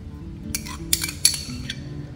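Grilled pork for a Vietnamese noodle dish is moved onto a plate, a few sharp metallic clinks of utensils against the dish, close and brief, with no talk.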